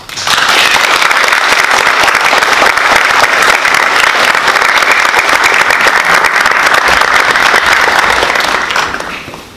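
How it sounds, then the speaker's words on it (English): Audience applauding after a third grade class performance at a school wax museum event, steady dense clapping that starts abruptly, holds loud and even for about nine seconds, then tapers slightly at the end. "let's give them one big round of applause for a masterful performance"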